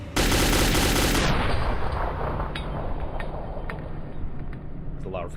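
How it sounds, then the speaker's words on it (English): Heavy automatic gunfire from Metro 2033, a loud sustained burst opening abruptly and then rumbling on as dense echoing reverberation with scattered sharp cracks through the rest. "There's a lot of recoil from that burst."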